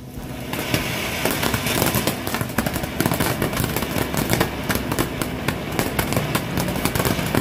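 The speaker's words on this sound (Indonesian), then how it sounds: "Mercon butterfly fountain." Chinese-made butterfly fountain firework going off outdoors, a dense continuous crackling and popping spray with rapid sharp bursts, loud and sustained throughout without talk.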